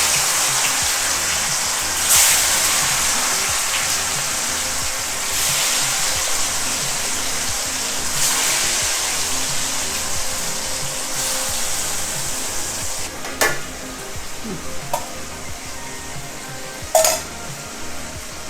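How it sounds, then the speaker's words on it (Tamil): Marinated chicken deep-frying in hot oil for Indian-style butter chicken, a steady broadband sizzle and bubbling throughout with occasional metallic clinks of a utensil against the pan. "இப்போ பாருங்கள், நம்ம மேரினேட் பண்ண சிக்கனை இப்போ டீப் ஃப்ரை பண்ணிக்கிட்டு இருக்கோம்."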